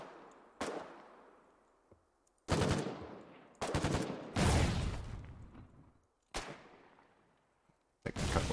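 Gunfire in the war video game Foxhole: about six loud, separate shots and bursts at irregular intervals, each with a long decaying echo trailing off between them.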